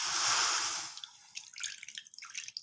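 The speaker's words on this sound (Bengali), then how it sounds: "কড়াতে সামান্য জল দেবো" Water poured into a kadai sitting on a gas stove: a steady close pouring rush for about a second, then scattered drips and small splashes as the flow stops.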